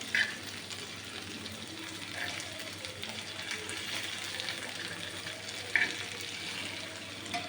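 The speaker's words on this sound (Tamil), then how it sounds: "இந்த வருங்க மீன் வந்து எப்படி பட படன்னு வெடிக்குது பாருங்கள்" Continuous sizzling and bubbling of kola fish deep frying in oil, with occasional sharp crackles and pops.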